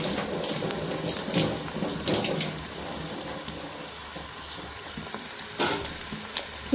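Raw chicken pieces for dragon chicken frying in hot oil, a steady close sizzle and hiss with scattered crackles and pops, no voices.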